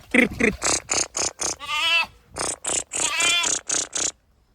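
Sheep and a lamb bleating beside a dam, a run of loud close bleats in quick succession with short pauses between them, including a couple of longer wavering calls.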